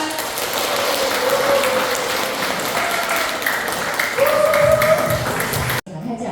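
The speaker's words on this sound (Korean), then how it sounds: "김경 프라님에게 큰 박수 한번 보내드리겠습니다" A room full of people at an indoor gathering bursts into sustained applause, loud and continuous clapping for several seconds before it cuts off abruptly.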